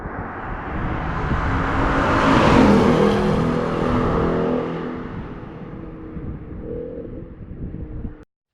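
A 2019 Ford Mustang GT convertible driving with the top down in Northern California sun, its engine rumble swelling and easing steadily under strong wind rush, with no talk.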